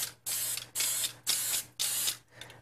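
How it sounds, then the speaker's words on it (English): Non-stick cooking spray hisses into muffin cups in four separate, evenly spaced bursts, each about half a second long, close and clear with short pauses between. "we're going to spray with non-stick spray"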